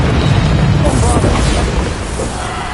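A Bombarda blasting spell explodes in Hogwarts Legacy with a loud, dense boom and roar that stays thick throughout and fades slightly at the end, amid chaotic combat sounds.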